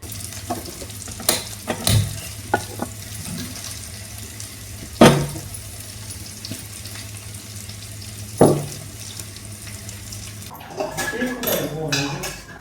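Vegetables go into hot tempering oil for a kurma and set off a steady frying sizzle, with several loud metallic clanks of utensils against the pot and brief voices near the end.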